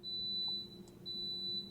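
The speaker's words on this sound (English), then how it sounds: "that beeping means my coffee is done" A coffee maker sounds two long, steady high-pitched electronic beeps, separated by a short pause, over a faint low room hum.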